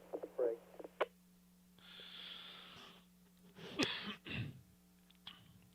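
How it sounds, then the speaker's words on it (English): A cough broadcast over a GMRS radio net, the transmitter keyed by mistake: a few short, harsh bursts in the middle of the transmission, over a steady radio hum and hiss, with brief fainter sounds before and after. "I went to hit the mute button so that I could cough, and I accidentally hit the key instead"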